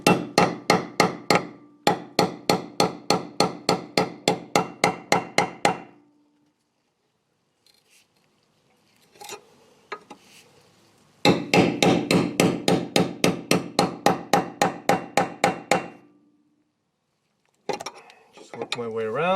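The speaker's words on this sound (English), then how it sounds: "Now I'm gonna tap the chisel all the way through the front." A hammer strikes a chisel to cut through a ball joint rivet on a car's lower control arm, loud close metallic blows in fast even bursts of about a dozen, separated by pauses with brief handling noise.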